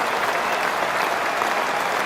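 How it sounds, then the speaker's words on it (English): Crowd at a cricket match, Marylebone Cricket Club versus a Rest of the World XI, cheers and applauds steadily and loudly for a batsman reaching fifty, a dense, continuous wash of clapping with no talk over it. "Greeted with a cheer."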